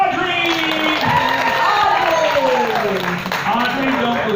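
A crowd at a Florida state fair science show cheers and applauds loudly for a volunteer, a continuous dense roar of clapping and whoops with a voice speaking over it.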